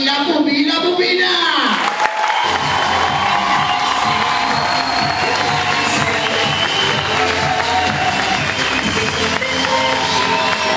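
Loud applause and cheering with shouts from a crowd at a travesti show at a fishing club in San Clemente, sustained and close throughout after a brief stretch of speech at the start.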